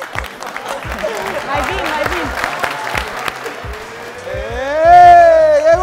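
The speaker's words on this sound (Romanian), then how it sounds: "Să mai aplaudăm puțin, te rog," A group of workers applauds inside a Leroy Merlin store, a brief ragged burst of clapping under loud voices, followed by a rising shout or cheer near the end.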